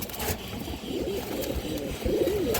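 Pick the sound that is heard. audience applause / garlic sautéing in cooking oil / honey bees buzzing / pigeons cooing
pigeons cooing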